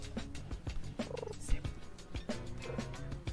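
A person imitates a cat purring with the voice, a close, rough, rhythmic vocal rumble in short repeated bursts with brief pauses between them.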